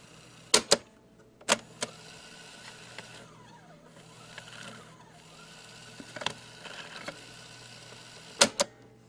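A Realistic CTR-41 cassette recorder's mechanism whirs faintly during a torque check, punctuated by several sharp mechanical clicks and clunks of its keys at irregular intervals, with a quiet running hum in between.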